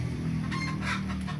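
A chicken clucks nearby over a low, steady background hum, a short run of soft, close clucks with no talk.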